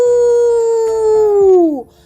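A voice imitates a wolf howling: one long, loud, sustained tonal howl that slowly falls in pitch and fades out at the end, heard alone up close.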